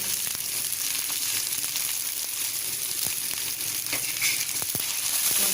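Okra (ladies finger) frying in a pan with salt, a steady close sizzle with faint crackles and stirring, no voices.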